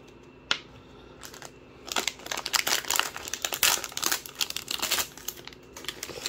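A foil wrapper crinkles and tears as Pokémon and Star Wars trading card packs are opened, with sharp, close, irregular crackling bursts that grow busier after a quiet start.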